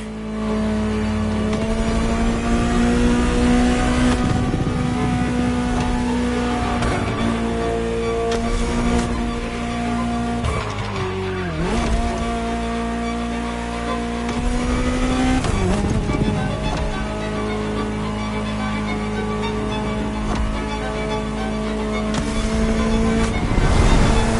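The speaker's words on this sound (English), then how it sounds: "Just listen to the car you're driving" A Ferrari supercar engine roars continuously, revving up and down through gear changes with a deep throaty note, close and loud throughout.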